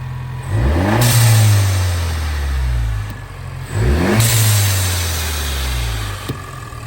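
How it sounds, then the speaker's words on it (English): Ford Bronco engine revved twice, close and loud, each rev surging then dropping as a Boomba blow-off valve adapter releases a sharp hiss, then settling back to idle, with no talking. "I'm going to turn on the Bronco, rev it up a couple times to hear the blow-off valve"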